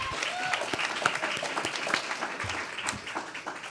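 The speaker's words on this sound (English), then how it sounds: "Give him a round of applause." Summit audience breaks into steady applause for a speaker being invited to the stage, a dense wash of many hands clapping throughout with a few louder claps near the front.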